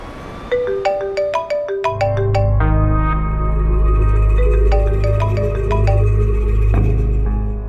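Mobile phone ringtone plays a bright melodic tune of rapid notes over a sustained synth backing, loud and close with no talking.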